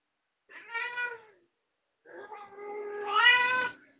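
A female cat meows while being brushed: a short drawn-out meow, then after a pause a longer, louder, rising complaint, close and clear with no talk over it.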